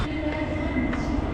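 A train stands or rolls at an Indian railway station: a continuous low rumble and hiss of rail noise with faint clanks, steady and fairly close, with no speech.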